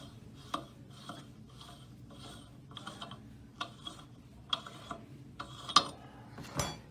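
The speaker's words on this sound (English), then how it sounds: "Now we'll remove the nut." A lock nut being worked off a plummer block bearing, giving a series of sharp metallic ratcheting clicks at a steady rhythm, close and fairly quiet, with no talking.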